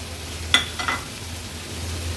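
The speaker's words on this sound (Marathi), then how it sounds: "आता आपण ह्याच्यामध्ये स्वच्छ धुतलेली ही कर्दी ॲड करतोय" Washed dried shrimp (kardi) drop into hot turmeric masala oil with a sharp hiss and a couple of quick stirring scrapes, then settle into a low, steady sizzle close by.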